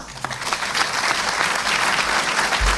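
Audience applause fills a lecture hall, a dense, steady wash of clapping from a large crowd at close range throughout.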